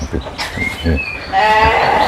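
Sheep bleating at a breeding farm in East Java with several breeds including Dorper crosses, a few close, loud bleats in quick succession.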